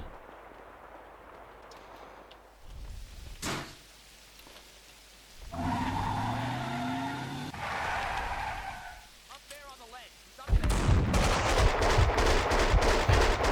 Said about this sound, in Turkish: teyze maşallah pompalı tüfek kullanıyor vallahi